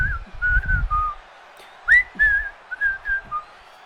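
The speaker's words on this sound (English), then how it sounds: "That little whistle though." A whistled melody in a wrestler's entrance theme, several bright sliding notes in a catchy phrase over low thumping music beats.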